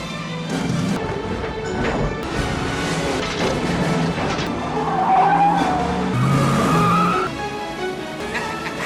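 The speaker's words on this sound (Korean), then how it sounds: "형사라면 누구나 한 번쯤은 한다는 추격전이 이어지고" Cars race through a film chase scene, tires squealing and skidding in long screeching bursts over roaring engines, with a sharp squeal rising near the middle and impacts mixed into a dense, loud action soundtrack.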